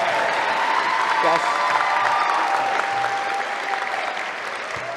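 Sustained audience applause at a nursing school commencement ceremony, a dense wash of many hands clapping steadily for the full stretch, with a brief voice heard over it.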